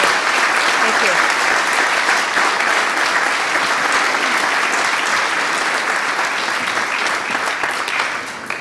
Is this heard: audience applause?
yes